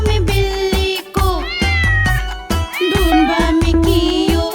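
Several clear, loud cat meows in a row, close by, with rising and falling pitch; a steady tonal hum or music runs underneath throughout.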